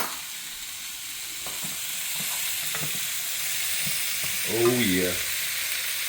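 A tablespoon of all-purpose seasoning blend sizzles and gets stirred in a very hot pan, a steady fry hiss with light stirring; someone briefly speaks near the end.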